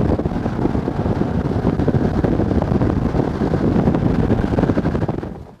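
Strong wind of close to 30 miles an hour blows across a lake, a loud, continuous roaring rush buffeting the microphone with no pauses until it eases at the very end.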